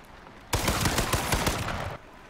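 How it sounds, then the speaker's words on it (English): An AR15 rifle in the video game H1Z1 empties a full magazine in one sustained rapid burst of loud, evenly spaced automatic shots lasting about a second and a half, alone with no talking. "This is the only time I would recommend maniacally emptying your magazine into the target."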